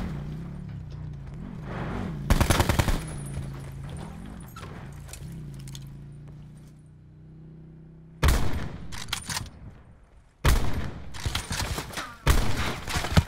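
Gunfire from the video game Call of Duty Blackout comes in loud bursts of rapid shots, separated by stretches of quieter in-game ambience and engine hum.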